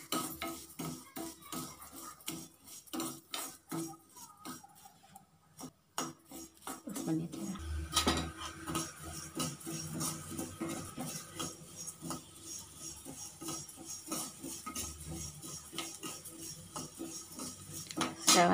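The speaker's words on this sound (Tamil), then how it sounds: "உளுத்தம்பருப்பு அந்த எண்ணெயிலே கொட்டி வறுத்துக்கணும்" Urad dal roasted in oil in a pan for curry leaf powder, with a metal spatula scraping and clinking against the pan in quick repeated strokes, close by, and a brief voice now and then.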